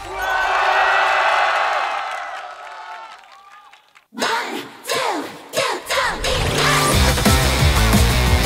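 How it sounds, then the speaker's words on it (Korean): A university crowd at a girl band concert cheers and applauds loudly for about three seconds, then fades. After a short pause, bursts of whooping and shouting break out and swell into a loud, full cheer. "여러분 박수 청해 듣겠습니다"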